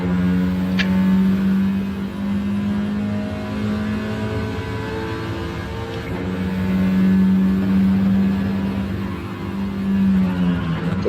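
Race car engine from a racing video game lapping a track in reverse direction, a steady droning whine that rises and falls slightly as the car accelerates, moderately loud and continuous.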